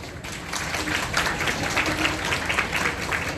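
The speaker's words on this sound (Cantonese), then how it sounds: "我哋一齊用掌聲送俾佢哋好嗎？" Wedding guests applaud the newlyweds with a dense, steady patter of many hands clapping, filling the room evenly for a few seconds.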